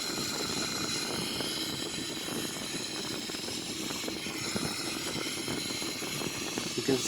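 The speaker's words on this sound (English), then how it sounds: "We select the right wing engine now into the start." The right wing engine of a Boeing 777-300ER is being started, heard as a steady, broad roar and whine that holds at an even level throughout, with no distinct spool-up.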